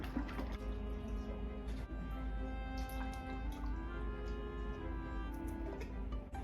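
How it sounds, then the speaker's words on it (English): Two cans of coconut milk pour into a pan of chopped jackfruit for a Filipino ginataan dessert, a soft, continuous liquid glug and drip that runs steadily throughout, close to the listener. "Next up, you're gonna put 2 cans of coconut milk"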